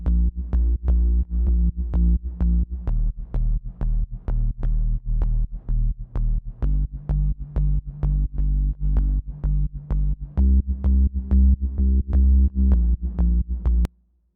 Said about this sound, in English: let me go ahead and play just the bass patch here